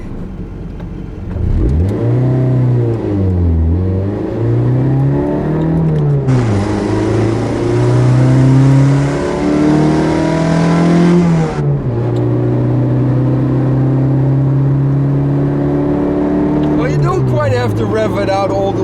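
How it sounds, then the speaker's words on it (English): A small engine in a 1986 Toyota MR2 revs hard while the car accelerates, its pitch climbing through the gears and dipping at each shift before holding a high, steady drone, loud and close. "Have to rev it out all the way if you want to leave from the light"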